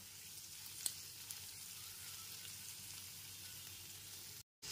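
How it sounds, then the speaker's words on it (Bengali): Chopped onion, garlic, ginger and green chillies fry in oil for a spicy lote fish jhuri, giving a steady, soft, close sizzle with a couple of faint ticks and a brief dropout near the end. "আদা আর কাঁচা লঙ্কাটাও পেঁয়াজ আর রসুনের সাথে 3 থেকে 4 মিনিট ধরে খুব ভালো করে ভেজে নেব"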